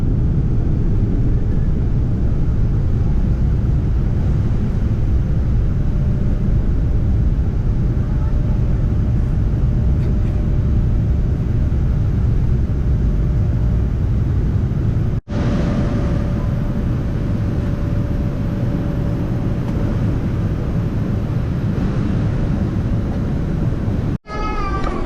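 From inside the cabin of an airliner leaving Toronto, a heavy, steady engine roar fills the space during takeoff, loud and unbroken for about twenty-five seconds, with a faint tonal whine above it and two short interruptions.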